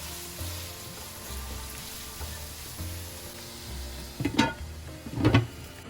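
Chopped onions frying in a pan, a soft low sizzle with faint rhythmic stirring, followed by two louder bursts of scraping and hissing toward the end.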